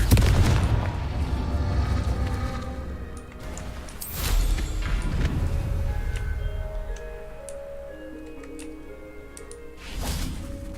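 Confringo and Incendio spell blasts in Hogwarts Legacy, with several loud booming bursts and crackling impacts over layered game music and ambience, separated by a few seconds.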